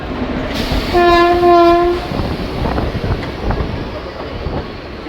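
A MEMU passenger train with an EMD locomotive pulls out of Rampurhat station on a rainy afternoon, its horn sounding a sustained loud blast for about a second before fading into steady rumble, rain hiss and wheel noise.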